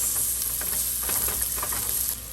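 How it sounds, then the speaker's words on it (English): Garlic and chopped onion hiss in a pan over medium-high heat for a pink-sauce penne. A dense, close sizzle holds for about two seconds, with faint stirring scrapes in it, then eases slightly at the end. "To this, I'm adding the garlic and also the chopped onion."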